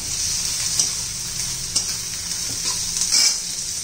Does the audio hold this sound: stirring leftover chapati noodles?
yes